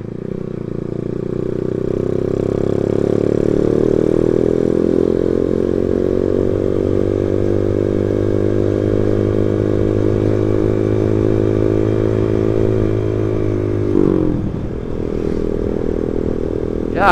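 A carbureted Yamaha Bison motorcycle engine runs loud and close on a village road, a steady droning hum that rises gently, then a clattering shift near the end.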